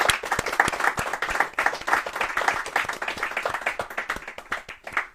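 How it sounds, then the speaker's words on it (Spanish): An audience claps at a bookshop presentation of a poetry book, a dense, steady round of applause from a small crowd that holds for several seconds and tapers slightly at the end. "Un gran aplauso otra vez."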